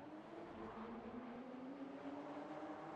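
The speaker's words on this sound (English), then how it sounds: "roar of the engine." A Porsche 911 Turbo S engine in Assetto Corsa at Silverstone drones with a steady, slowly rising roar, continuous and moderately loud with no voices.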